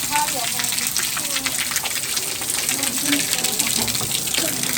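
Rainwater pours and gushes steadily into a room during heavy rain, a continuous close splashing wash of water with voices talking over it.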